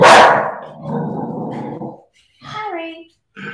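A dog barks loudly up close, with a sharp bark at the start followed by rough, throaty barking and a few yips in short bursts.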